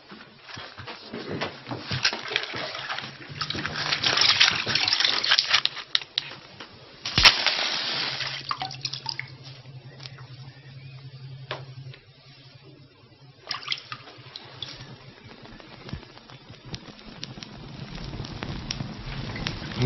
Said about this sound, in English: will you sprinkle it with water?